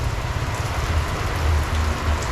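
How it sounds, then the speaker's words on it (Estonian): Heavy rain pours steadily in Tanzania, a dense, loud, continuous hiss of drops with a low rumble underneath and no pauses. "Sajab endiselt."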